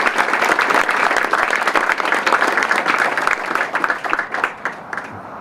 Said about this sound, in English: Let's have another round of applause for that story.